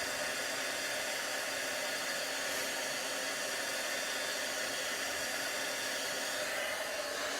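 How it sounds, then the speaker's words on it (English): A heat tool for card making blows a steady, even, hair-dryer-like whoosh that runs continuously and unchanged for several seconds at moderate level, with no voices. "And now heat tool one more time."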